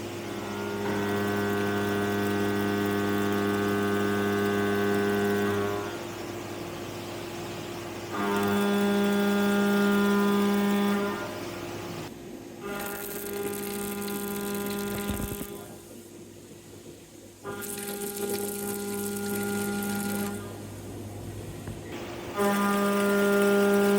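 A Tormach 1500MX CNC mill machining a part, giving a steady tonal whine with strong harmonics that swells and drops in phases as the cut changes, with washdown water noise in the gaps; no talk.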